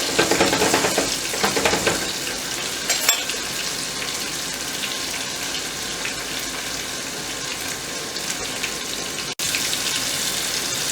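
Food frying in a pan, a dense continuous sizzle with crackling spatter throughout, close and steady, with a brief dropout near the end.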